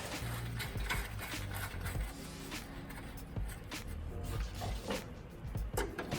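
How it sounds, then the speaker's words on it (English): Ratchet wrench snugging down a nut while installing a Montero Koni heavy track, giving a steady run of small clicking strokes, close and fairly quiet, with no voices. "Ratchet, my wrench on there. Ratchet, and I'll just snug it down."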